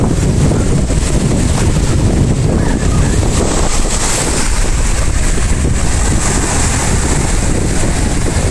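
Strong, steady wind roars and buffets the microphone without pause on the shore in Cavite City, with a broad rushing noise and faint surf beneath.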